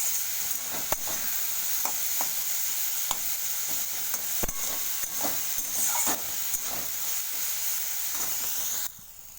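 Small home-grown brinjals frying with turmeric in a pan, giving a steady close sizzle broken by sharp stirring scrapes and clicks throughout, with no talking.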